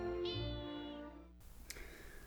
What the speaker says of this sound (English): Just one word for that cat. Meow.